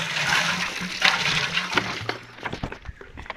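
Water gushes steadily from a farm well while brass pots are rinsed, a loud broadband rush that thins toward the end into splashes and knocks of metal vessels.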